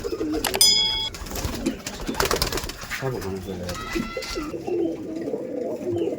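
Madrasi pigeons of the middle-tower flying breed coo and call close by, repeated throaty notes mixed with wing flutters while someone talks over them.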